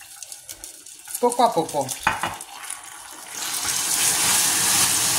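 Water poured little by little into hot liquid caramel, first bursts of bubbling and stirring, then a loud rising hiss of steam and sizzling that swells and holds, with a few spoken words over it.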